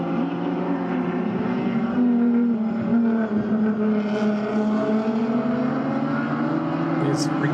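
A Ford AU Falcon saloon race car roars at Sydney Motorsport Park, its engine droning loud and steady with shifting pitch, while a commentator talks over it.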